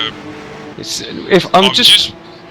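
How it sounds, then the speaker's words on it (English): A race car in a GT simulator racing game at Interlagos holds its revs flat, as if stuck in first gear or bouncing on the rev limiter, with a buzzing engine tone beneath loud commentary voices. "It sounds like they either can't change up, they're stuck in first gear, or the rev limiter is stuck on"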